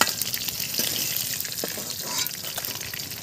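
Pieces of shol fish (snakehead) frying in hot oil, giving a dense, loud, continuous sizzle and crackle with no voices.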